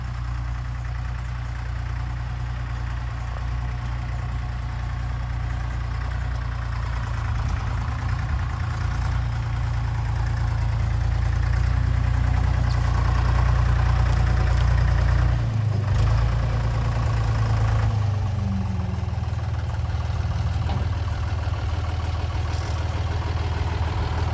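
A Ford 8N tractor engine runs steadily throughout, a deep low rumble that swells slightly louder midway, with no talking.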